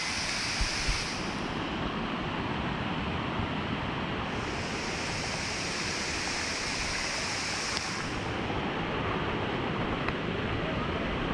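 Rushing water roars steadily from Elaneeru Falls in Karnataka, a dense, continuous hiss and rumble heard up close without any change in intensity.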